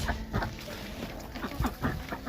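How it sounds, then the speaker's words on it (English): Chickens clucking on a rainy permaculture farm, with several short, close clucks and calls in an irregular rhythm over a soft outdoor background, and no talk. "Sparkle, one of our new chickens, seems to like puddles."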